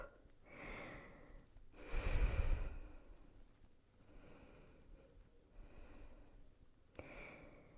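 One long, close exhale through the nose and mouth while easing into child's pose during a mat Pilates class, with softer breaths before and after in a quiet room.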